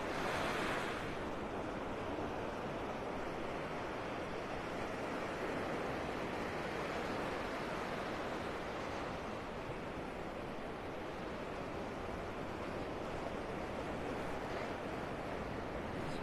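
Ocean waves breaking on a sandy beach at Vanderbilt Beach in North Naples, Florida, a steady loud wash of surf with colliding waves and some wind across the microphone, continuous and near, with no talking.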